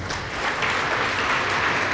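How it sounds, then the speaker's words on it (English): A room full of rugby schoolboys at a sports week breaks into dense, sustained applause, a steady wash of many hands clapping at once with no gaps. "Give yourself a huge round of applause and welcome here"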